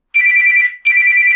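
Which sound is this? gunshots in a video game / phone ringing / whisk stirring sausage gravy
phone ringing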